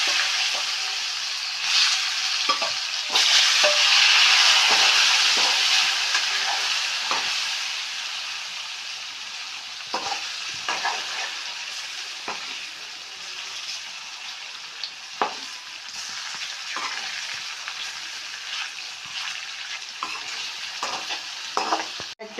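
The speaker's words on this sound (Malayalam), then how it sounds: "ഉരുളൻകിഴങ്ങ് ഫ്രൈ ആയി നേരിയതായിട്ടായാൽ മതി കേട്ടാ." Boiled potatoes frying in coconut oil sizzle steadily, with clear stirring and scraping sounds from a spoon in the pan. The loudest burst comes early, then the frying continues at a softer level with occasional clinks.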